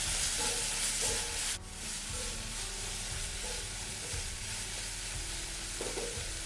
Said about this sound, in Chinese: 再倒入炒香的椰丝内拌炒